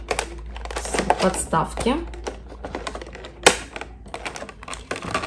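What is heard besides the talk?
cutting off a doll's display stand from packaging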